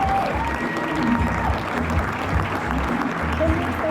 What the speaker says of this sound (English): Can we have a round of applause as our candidates re-enter?